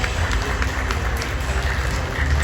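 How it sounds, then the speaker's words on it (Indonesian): Audience applause welcoming a retired Indonesian general at a student achievement event, a steady, dense clapping roar that holds evenly and fairly loud from start to finish, with no voice on top. "Dengan tepuk tangan yang paling meriah."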